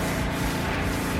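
A DA sander works over primer on a Nissan 350z, a steady, close, continuous buzzing rub with a low motor hum and no pauses.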